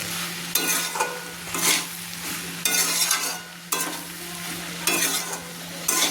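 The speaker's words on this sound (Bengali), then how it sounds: "দিয়ে দিলাম টমেটো সস 2 চামচ, দিয়ে ভালো করে আমি নেড়ে নিচ্ছি" Pasta with two spoons of tomato sauce being stirred in a frying pan over heat, with repeated scraping strokes of the spoon at a steady rhythm over a continuous low sizzle and hum, close up and alone.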